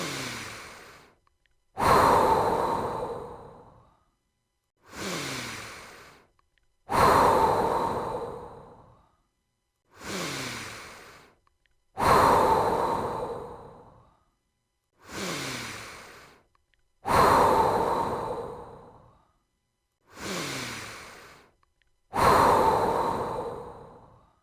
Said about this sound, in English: Take a moment to breathe in and breathe out.